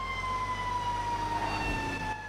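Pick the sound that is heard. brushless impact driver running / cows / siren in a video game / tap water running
siren in a video game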